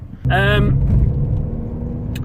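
A Mini Cooper R56 with the 1.6 N12 engine, which has a fault that makes it run rough at mid throttle, rumbles steadily and low while driving on the road. A voice is heard briefly near the start.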